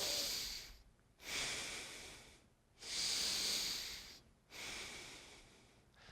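Slow, deep breaths taken while lying on a foam roller during a shoulder stretch, four long airy inhales and exhales in a steady rhythm, close and soft.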